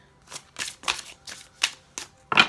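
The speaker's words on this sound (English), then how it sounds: "quick shuffle. 3 shuffles." A deck of tarot cards is shuffled by hand during a pick-a-pile reading: seven short, crisp papery bursts, close and fairly quiet, arriving in an uneven rhythm, with no voices.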